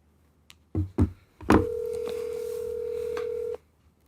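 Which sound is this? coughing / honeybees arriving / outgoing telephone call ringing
outgoing telephone call ringing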